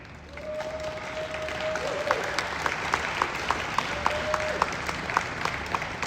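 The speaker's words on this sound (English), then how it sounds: "So let's give him a big round of applause." Sustained audience applause for an assemblyman fills the room, a dense wash of clapping hands with some sharper individual claps standing out, continuing steadily throughout.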